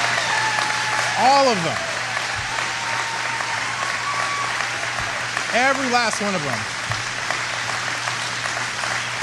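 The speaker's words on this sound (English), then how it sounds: "Look how long they're clapping." A standing audience of Floridians claps steadily and at length, a continuous wash of applause under a voice speaking over it.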